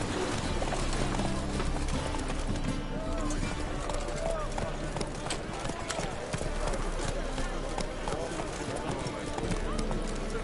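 Roach the horse galloping in a video game, a steady rapid clip-clop of hooves running continuously under the game's ambient sound, with a player's voice talking over it.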